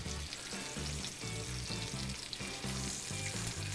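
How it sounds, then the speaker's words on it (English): Bacon frying in a carbon steel pan on a stove, a dense, loud, continuous sizzle and crackle of rendering fat close up, with no voices over it. "we wanna add cold bacon to a cold pan so that the fat can render"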